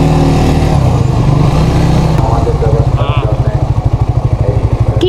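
A motorcycle engine runs close by, its low throb turning into a fast, even pulsing putter toward the end, with some voices faintly underneath.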